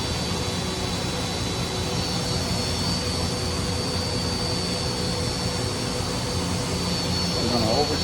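A DM1100DC deburring machine hums and whirs steadily as it spins up, a continuous broad rushing drone with a faint high whine, close and unchanging throughout.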